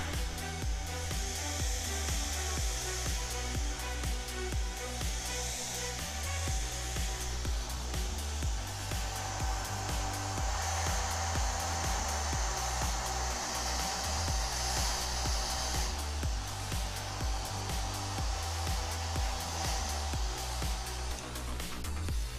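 A hair dryer runs steadily at close range, blowing across a part from an M4A3E8 Sherman model tank kit, with a continuous broadband whoosh and faint musical tones underneath throughout.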